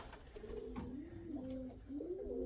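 Pigeons cooing nearby, soft low rolling coos repeated several times over a murmuring outdoor background.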